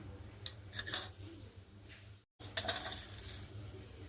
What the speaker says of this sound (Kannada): ಎಣ್ಣೆ ಹಾಕೊಂಡು ಇದಕ್ಕೆ ಸಾಸಿವೆ ಹಾಕ್ಲಿಕ್ಕತ್ತೀನಿ.